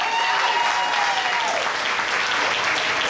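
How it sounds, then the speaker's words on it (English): A crowd at a charity running dash event gives a big round of applause, a thick, even wash of clapping that holds steady and loud from start to finish. "Give them a big round of applause, everybody"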